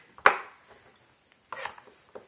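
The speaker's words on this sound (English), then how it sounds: "long beans, just slice it like this" Long beans are sliced with a knife on a cutting board while preparing a Lao algae salad: three crisp, separate chops, the first loudest and the others softer, spaced over about two seconds with quiet between them.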